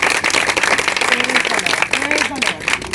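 A church congregation claps together at a service, dense, close applause running throughout while voices speak and call out over it.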